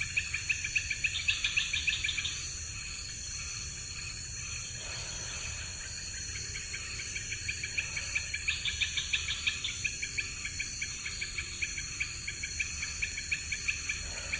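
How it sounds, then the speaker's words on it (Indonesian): Dense, continuous cricket trilling fills the night air in a forest, pulsing in waves, with faint bird and owl calls scattered underneath. "banyak sekali suara-suara binatang kayak burung, jangkrik, kayak burung-burung hantu"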